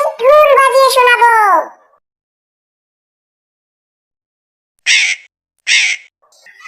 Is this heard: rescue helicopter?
no